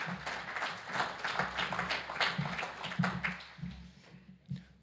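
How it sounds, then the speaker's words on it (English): Faint, fairly distant audience clapping at a blueberry technology symposium session, a patter of irregular claps with no speech over it. "Let's give a round of applause to David Bannon."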